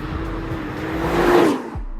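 A 2017 Nissan GT-R engine roars steadily while driving, swelling louder and higher toward the top end before easing off, with a passing whoosh near the close; no speech.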